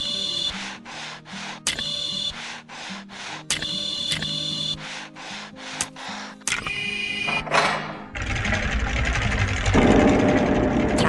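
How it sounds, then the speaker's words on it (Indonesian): Animated tractor engine running as the tractor moves, a busy mechanical clatter with rhythmic pulses that grows denser and steadier toward the end, fairly loud with no talk. "Traktor sedang berpindah tempat."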